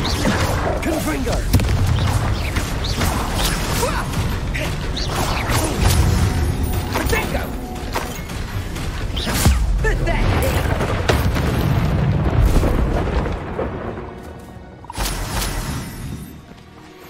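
Fiery blasting-curse explosions in the Hogwarts Legacy video game, a dense, continuous barrage of loud booms, crashes and shattering debris, with mechanical clatter and voices woven through the fight.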